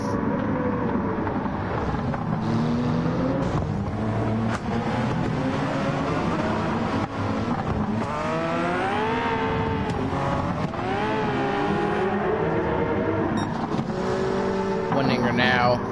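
1990s vintage Le Mans race cars lapping in Gran Turismo 7 during a Petite Le Mans endurance round, engines roaring loud and continuous with rising and falling revs as they pass, and a commentator talking over them.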